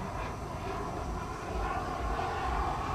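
An ultralight jet aircraft takes off at an air show, its engine a continuous loud roaring whine that holds steady and swells slightly, with no clear talk over it.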